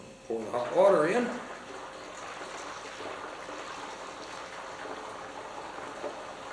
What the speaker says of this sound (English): Pour the hot water in.